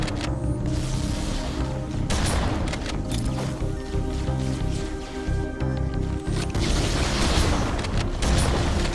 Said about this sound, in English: There's a flood. A rocket launcher